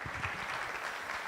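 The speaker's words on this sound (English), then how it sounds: "A round of applause for Kia Guarino." An audience at a fundraiser event claps in a brief burst of dense, steady applause. The crowd sounds close and fills the room.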